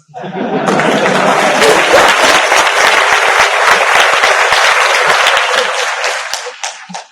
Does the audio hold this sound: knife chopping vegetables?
no